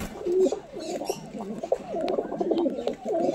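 Abluck pigeons, a pair of one male and one female, coo continuously close by in repeated rolling, throaty calls with no voices in between.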